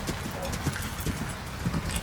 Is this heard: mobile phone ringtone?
no